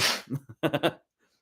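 One sharp, breathy sneeze bursts out at the start, followed by a few short vocal sounds before it goes quiet.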